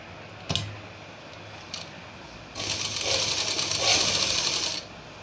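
A sewing machine stitching a buttonhole strip onto fabric for a baby night suit: a couple of isolated clicks, then one steady, fairly loud run of rapid stitching lasting about two seconds before stopping.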